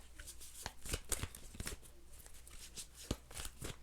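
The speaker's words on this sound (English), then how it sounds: "Okay, I have to shuffle." Tarot cards being shuffled by hand, a quiet run of repeated riffling flutters and soft slaps in an irregular rhythm, close and alone.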